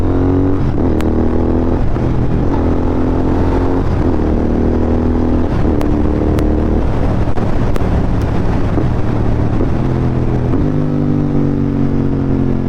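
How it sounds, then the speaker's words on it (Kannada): A Royal Enfield GT 650 motorcycle engine runs steadily, its pitch dropping and rising in several steps as gears are shifted without the clutch, with wind noise over a constant close drone and no talk. "ಈಗ ನಾನು ಕ್ಲಚ್ನ ಯೂಸ್ ಮಾಡದೆ ನಾನು ಗೇರ್ ಶಿಫ್ಟ್ ಮಾಡ್ತೀನಿ. ಇದು GT 650."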